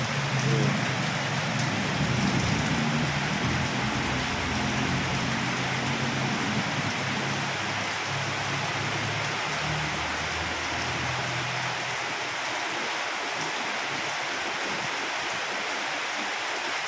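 Steady rain falls outdoors where a corgi plays, a constant loud hiss of drops on surfaces with a low rumble early on, and no voices.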